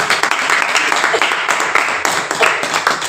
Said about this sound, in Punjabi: ਤਾੜੀਆਂ ਲਾਵਾਂਗੇ ਇੱਕ ਵਾਰ